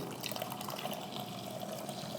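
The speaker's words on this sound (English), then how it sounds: "Add some water to this?" Water pours steadily into a pot of seafood cioppino in a kitchen, making a continuous close splashing rush with no voices over it.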